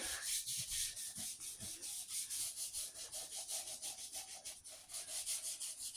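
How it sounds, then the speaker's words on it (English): Rhythmic brisk scrubbing with a brush on a leather boot on a mat-covered table, strokes repeating quickly and evenly at close range, with no speech. "And I'm just going to scrub this"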